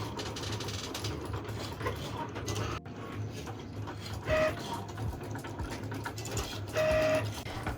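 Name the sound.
three sticker cutting machines running at once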